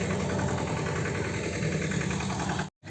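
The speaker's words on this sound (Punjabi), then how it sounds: "ਹੁਣ ਆਪਾਂ ਘਰੇ ਲੈ ਕੇ ਚੱਲਦੇ ਆ ਟਰੈਕਟਰ" A tractor engine idles close by with a constant low rumble and vibration, then cuts off abruptly near the end.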